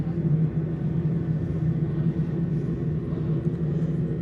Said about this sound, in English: You can hear the sound. It sounds just like a plane.